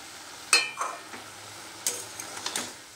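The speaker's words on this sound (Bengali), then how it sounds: "তো এখন আমি একটু জাস্ট নেড়ে নেব" Chickpea greens curry stirred in a pan, a few short scraping and clinking strokes of a utensil against the metal with a light sizzle between them, close but fairly quiet.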